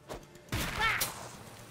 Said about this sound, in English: Oh, sweet fireworks!